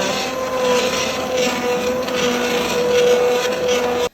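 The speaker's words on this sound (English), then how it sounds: "I'm going to use this immersion blender and just smooth it out" An immersion blender whirs loudly and continuously, its motor pitch wavering slightly as it purees tomato soup, then cuts off abruptly at the end.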